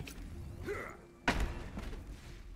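An explosion ability fired in the video game The First Descendant lands as one loud, sudden thud-like boom partway through, trailing off over a low, steady background hum.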